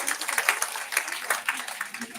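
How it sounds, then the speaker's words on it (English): A live audience at a students and faculty development programme claps together in a dense, steady round of applause lasting the whole stretch at moderate level. "give a big round of applause for yourself that you are part of this OCP"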